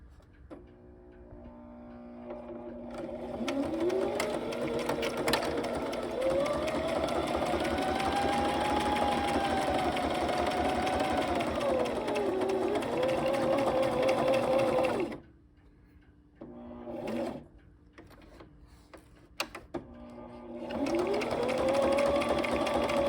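A sewing machine straight stitching through a paper shaker card with an acetate window, a close steady whirring hum in long runs that pause and restart, with brief handling noises between.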